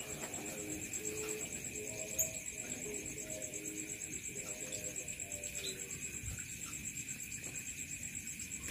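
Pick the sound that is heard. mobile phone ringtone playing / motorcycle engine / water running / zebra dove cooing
zebra dove cooing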